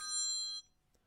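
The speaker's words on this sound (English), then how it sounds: "That is Paula ringing me." A phone rings for an incoming call, a single short electronic tone burst lasting about half a second and then cutting off, close and clear in a quiet room.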